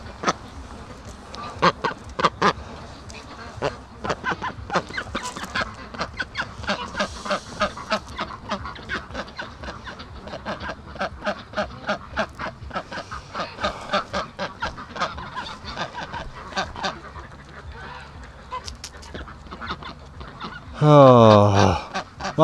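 A free-range flock of ducks honk and quack near a barn, many overlapping calls in a rapid, busy rhythm that carries on throughout, with a louder burst of noise near the end.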